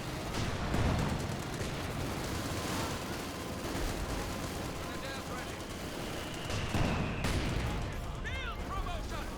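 Dense automatic gunfire from MP40s and StGs rattles in a Company of Heroes battle, continuous bursts with distant booms layered under an ongoing commentator's voice.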